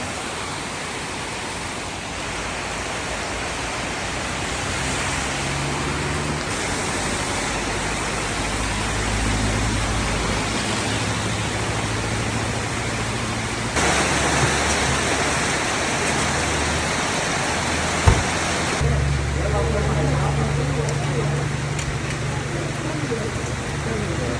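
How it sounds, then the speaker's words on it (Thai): Torrential rain drums steadily while a Honda CT125 motorcycle rides through Wichian Buri district in Thailand, a broad unbroken roar with low engine drone and occasional shifts in intensity. "อยู่อำเภอวิเชียรบุรีดูฝนเลย"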